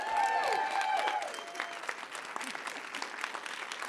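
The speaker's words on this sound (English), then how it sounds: "let's give it up one more round of applause for our MC" A show audience applauds the MC at an Eagle Valley stage event. Sustained tones fade at the start, then a steady patter of clapping continues at moderate volume.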